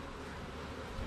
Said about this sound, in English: some of these bees have already emerged and gone through a whole life cycle